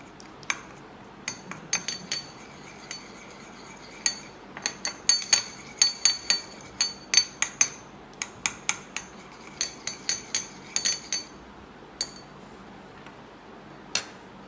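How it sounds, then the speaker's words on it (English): Coffee paint being mixed with a brush and then a spoon: a long run of sharp, irregular metallic clinks and taps against a dish, clustered in quick bursts, close up and alone over a quiet background. "First mix with your brush and then use your spoon."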